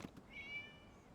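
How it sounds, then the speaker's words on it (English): A cat in Genshin Impact gives a single short, clear meow, fairly faint and alone with no talking. "It was just a cat."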